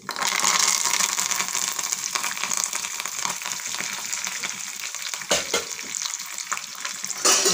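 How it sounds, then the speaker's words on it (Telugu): Curry leaves and tempering spices sizzle and crackle in hot oil in a pan while a Telugu village-style gongura and peanut curry is prepared, a steady loud frying hiss with occasional stirring scrapes, no talking. "చూసారుగా ఎలా ఉందో, తాలింపులు కూడా వేగిపోతున్నాయి అన్నమాట."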